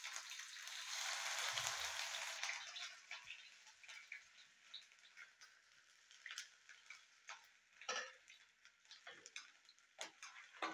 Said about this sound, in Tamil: தட்டி வச்சுருக்கிற இஞ்சியை நம்ம இந்த ஆயிலில் போட்டுக்கலாம்